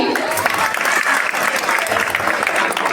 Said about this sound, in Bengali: হাততালি কই?